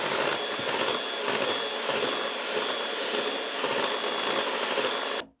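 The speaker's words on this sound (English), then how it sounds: "I'm just going to use the hand mixer to make sure it all mixes in well" Electric hand mixer whirring steadily through keto muffin batter with dairy-free ingredients and added egg yolks, a close, continuous buzzing drone that cuts off abruptly at the end.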